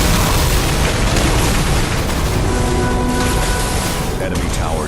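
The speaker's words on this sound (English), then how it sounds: "Enemy tower destroyed." An enemy tower blows up in the video game Megalith, giving a loud, continuous roaring explosion with rumble that holds steady for several seconds without letup.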